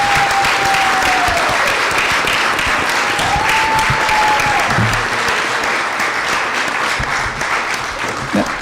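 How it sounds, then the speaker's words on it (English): A city common council meeting crowd applauds championship student athletes, with steady, dense clapping throughout and a faint whistle or tone running underneath. "Round of applause, please."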